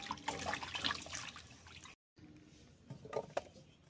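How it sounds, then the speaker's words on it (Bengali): Vegetables such as potato and sweet potato being washed by hand in a basin of water, with close sloshing and dripping splashes, a brief gap, then quieter swishing and a few sharper splashes. "সবজি ধোয়ার জন্য গামলাতে জল নিয়ে নিচ্ছি, প্রথমে আলুটা ধুয়ে নিচ্ছি।"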